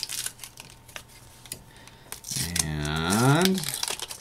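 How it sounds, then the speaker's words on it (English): Brown protective film pulled off an acrylic sheet, with scattered crinkles and ticks followed by a long rising, squealing peel, close and fairly loud. "That ugly brown color actually does come off. I start by just peeling it off."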